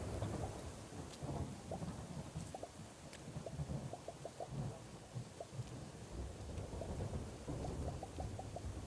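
A thunderstorm in the cozy farming game Garden Witch Life: steady rain pattering on surfaces with low rolling thunder rumbles throughout, fairly quiet and continuous, no talking.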